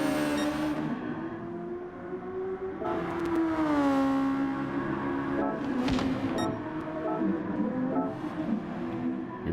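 Race car engines at the Nurburgring GP circuit, rising and falling whines as cars rev and pass, some loud and close, others fading, with no talk.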